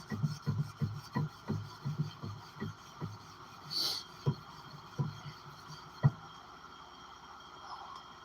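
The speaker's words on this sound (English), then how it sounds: "Just about done hand sanding this" Hand sanding of a wooden piece at a forge shop, heard as a series of rhythmic rubbing strokes, close and moderately loud, quickening early on and then slowing to spaced single strokes.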